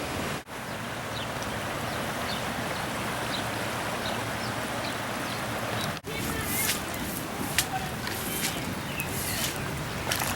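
A creek in Granville, Ohio, in flash flood, its water rushing over and overwhelming a bridge, a dense continuous roar, with a brief thump and faint bright splashes or voices near the end.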